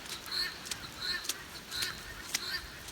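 Upset pet birds call outdoors in the rain, a series of faint honking cries repeating roughly every half second over a soft wet background hiss.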